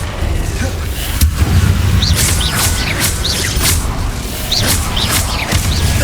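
Confringo blasting spells go off repeatedly in Hogwarts Legacy as a string of heavy booms and impacts. They are mixed with whooshing, chirping spell effects during a loud, busy duel.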